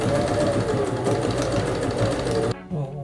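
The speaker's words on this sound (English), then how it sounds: "When I stitch these, I'm going to start my stitch at the drawn on seam allowance" Domestic sewing machine stitching cotton fabric pieces for a hexagon quilted throw, a steady close mechanical whir with rapid needle rhythm that runs continuously and stops abruptly near the end.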